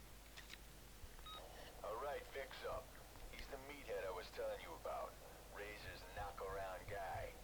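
A phone rings in the Need for Speed Most Wanted racing game, a brief electronic tone at the start that gives way to voices talking over a low background hum.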